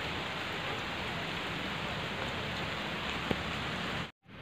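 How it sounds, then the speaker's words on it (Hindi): Heavy rain pours steadily as a dense, even hiss with no one speaking, then cuts off abruptly near the end. "तेज़ बारिश आई हुई है ना"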